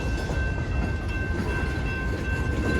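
A freight train of about 30 cars rolls past close by, a loud continuous rumble with rattling wheel noise and a thin steady squeal above, no voices.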